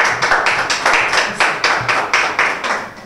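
A crowd at a rap battle event claps loudly in a steady, unison rhythm, with about a dozen evenly spaced beats close by.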